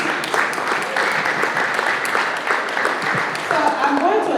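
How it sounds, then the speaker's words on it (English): Steady applause from an audience at an open house and oath-of-office meeting, a continuous even patter of many hands throughout, with a voice starting up under it near the end. "Please give yourselves a round of applause"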